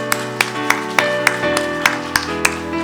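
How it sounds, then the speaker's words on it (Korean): A church congregation clapping at a Sunday worship service, sharp claps in a steady rhythm of about three per second over sustained organ or keyboard chords, moderately loud in a reverberant sanctuary. "하나님께 영광의 박수 한번 드리겠습니다."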